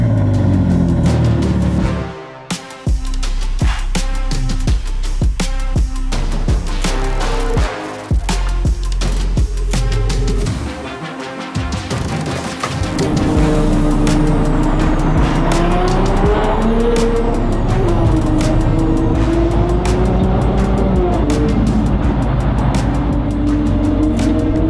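A custom car built for SEMA 2023 roars loud and close through sustained revving and acceleration, with brief drops in engine noise and long squealing tire skids in the latter half.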